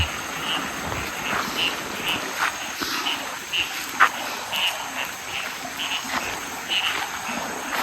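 Frogs croaking outdoors at night in a Thai forest, repeated rhythmic calls over a bed of chirping insects and crickets, with faint rustling steps nearby.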